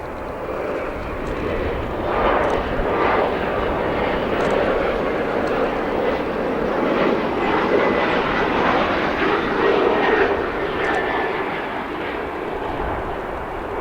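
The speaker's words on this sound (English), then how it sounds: "we just wanted you guys to be able to hear the pureness of those General Electric GE NX engines" General Electric GEnx jet engines roar loudly and steadily at O'Hare International Airport, a broad sustained rumble with a rising whine, and voices speak faintly beneath the noise.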